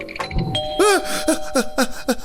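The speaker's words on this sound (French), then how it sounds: "Oh, la sonnette." A doorbell chimes repeatedly, a series of bright ringing tones in a quick irregular rhythm, fairly loud and close.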